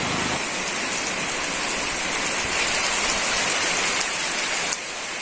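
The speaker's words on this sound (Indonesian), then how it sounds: "hujannya makin deras ya, terpaksa kita berteduh di sini" Heavy rain pours down steadily in a rural village beside a pine plantation, a dense, even hiss of drops striking surfaces close by, with no voices.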